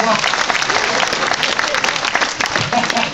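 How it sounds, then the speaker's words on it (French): Audience at a French political gathering applauding steadily and loudly in a dense, continuous wash of claps, with a few voices mixed in. "Merci d'applaudir"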